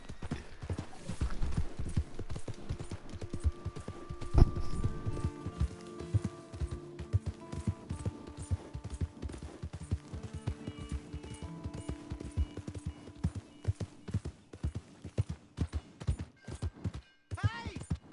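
Horse hooves clip-clop in a steady, close rhythm within a PS4 video game, mixed with a whinny and other game sounds, with faint talk in the background.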